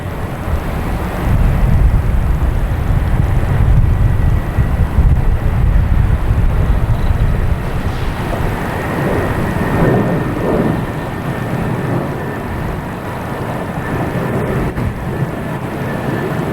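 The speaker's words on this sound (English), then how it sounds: "There's that Delta A330 heading back to Amsterdam, flight 256, lining up out there." A Delta Airbus A330 jet airliner at Boston Logan Airport produces a loud, steady, broad jet roar that eases slightly partway through, heard from a distance with wind buffeting the microphone.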